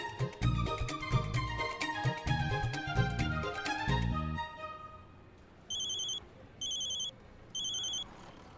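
Music plays, then fades and gives way to a telephone ringtone after a number is dialed, three evenly spaced electronic rings, clear and close.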